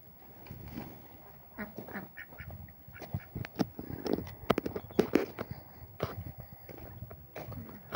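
Ducks kept with turkeys on a poultry farm quack in scattered, irregular bursts, some calls close and sharp, others softer, over faint farmyard background noise.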